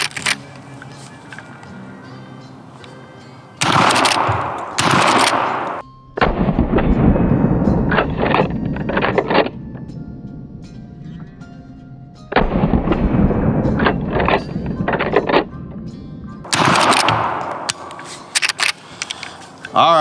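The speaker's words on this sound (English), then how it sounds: "that is the X model 410 shotgun there" A Henry X Model .410 shotgun fires four loud outdoor blasts, each followed by a rolling echo, with quieter handling and talk in between.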